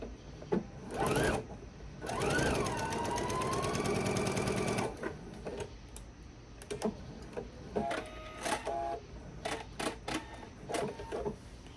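A sewing machine stitches the ends of a reversible bag together in one loud continuous run of about three seconds, preceded and followed by shorter bursts and clicks of handling.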